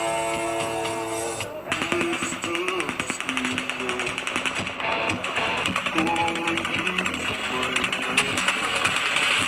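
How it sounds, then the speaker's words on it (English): Rapid bursts of automatic gunfire at the Route 91 Harvest country music festival in Las Vegas, a dense rattling stream of shots heard at a distance over crowd noise and music. "30 seconds later, we hear what sounds like automatic gunfire."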